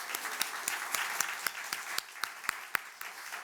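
A church congregation claps after a hymn at a Sunday morning service, a steady rhythmic beat of hand claps moderately distant, about four per second, with no talking.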